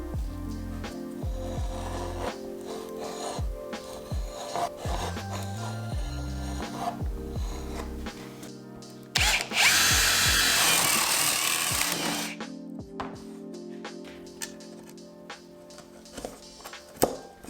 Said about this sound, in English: I need to cut a few ceiling panels so I can show you how the lights work